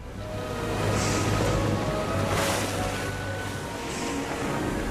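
Stormy sea from a fantasy adventure film: a steady, loud wash of broadband water and wind noise with a low rumbling drone underneath and swelling gusts, continuous throughout with no talking.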